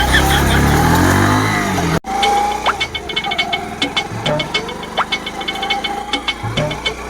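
A car draws near with a loud, close engine roar that stops abruptly, then a lower engine rumble carries on with rhythmic knocking pulses and scattered clatter.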